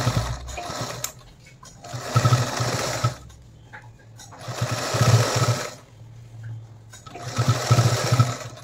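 Sewing machine stitching along a blouse neckline, running in three steady bursts of rapid mechanical stitching separated by short quiet pauses, close and fairly loud with no talk.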